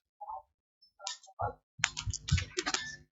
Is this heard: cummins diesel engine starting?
no